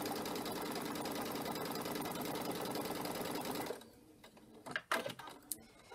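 A sewing machine stitching steadily over a patchwork quilt seam, a close, even mechanical whirr for nearly four seconds that stops abruptly, followed by a few light clicks and handling noises.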